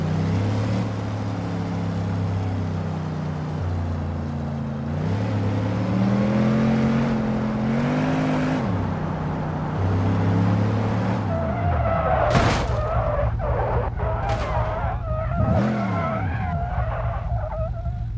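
A modded car in the BeamNG Drive video game revs its engine, its pitch rising and falling, then skids with squealing tires and sharp crash impacts near the end.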